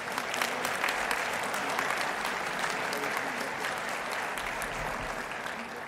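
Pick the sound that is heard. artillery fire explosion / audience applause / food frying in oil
audience applause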